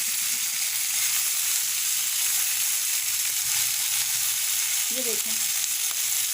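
Chicken with garlic ginger paste frying on high heat, a steady dense sizzle and hiss throughout, with a brief spoken phrase near the end.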